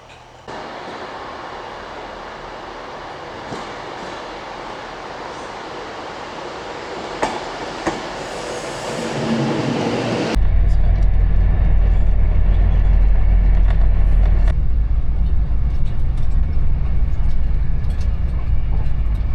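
Train moving through Carlisle railway station on the way to Edinburgh, a steady rumble of rail cars with clickety-clack wheel noise that grows louder and deeper midway as the train passes close, with no talk.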